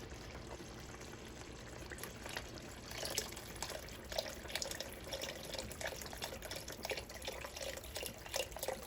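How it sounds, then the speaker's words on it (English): Beef broth pours into a Dutch oven, a soft continuous liquid splash and trickle, fairly quiet and steady throughout with no talking. "now I'm going to add about 2 cups of beef broth."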